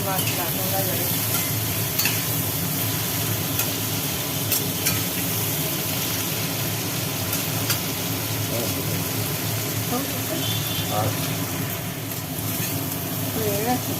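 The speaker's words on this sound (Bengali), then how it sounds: "পেঁয়াজ টমেটোটাকে নুন দিয়ে আচ্ছা করে ভাজা হলো" Constant loud sizzle of onion and tomato frying in a pan, with stirring scrapes and a low background hum throughout.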